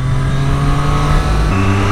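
A Triumph Street Triple 765 RS three-cylinder motorcycle engine drones close up, holding a steady pitch and then shifting to a new tone partway through, with a faint high whine above it.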